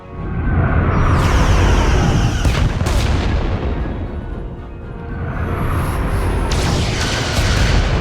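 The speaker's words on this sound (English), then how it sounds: "Fire phasers! Firing." Phaser fire in the Star Trek Resurgence video game, heard as a loud sustained blasting roar with sharp bursts and sweeping high tones that swell and ebb across the stretch.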